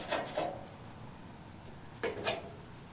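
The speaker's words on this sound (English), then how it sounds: "We'll just get that sticker off of there." A sticker is peeled and rubbed off a Taiwan-made replacement fender for a 1983 Ford F150 bullnose truck, giving two pairs of short, close scraping rasps separated by a quiet pause.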